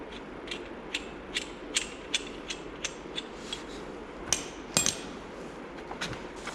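Parts of a Lisle universal brake disc caliper tool being threaded together by hand while servicing 2015 Dodge Dart brakes, giving a run of close, crisp metallic ratchet-like clicks and small clanks in an irregular rhythm.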